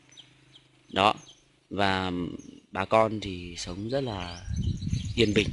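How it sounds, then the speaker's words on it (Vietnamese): Birds chirp faintly in the background while a person speaks in the foreground. "các bạn có thể nghe thấy tiếng chim hót"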